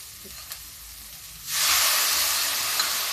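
Spices such as turmeric, chilli and coriander hit hot oil for a red masoor dal tadka with a sudden loud, steady sizzle that begins midway and holds to the end, without talk.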